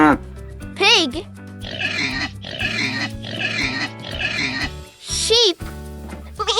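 A pig oinks and grunts in a run of rough, snorting bursts, close and moderately loud over background music, framed by short bright chimes before and after.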